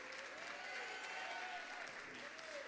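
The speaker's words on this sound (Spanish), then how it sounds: "Recibamos con un fuerte aplauso al conferencista de hoy." Church congregation applauding to welcome a preacher, a faint, steady wash of clapping from a distance, with a sustained tone running through it.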